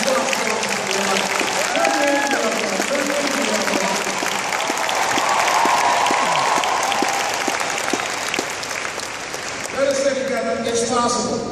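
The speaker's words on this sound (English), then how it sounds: "Give yourselves a round of applause for taking responsibility for your life." Large convention crowd at a motivational event applauds itself in a long, loud, unbroken wave of clapping, with scattered cheers and voices mixed in and rising again toward the end.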